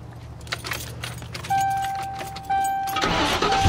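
1995 Ford Thunderbird started with a key: keys jingle in the ignition, dash chimes ring out, then the engine cranks and catches near the end, close inside the car.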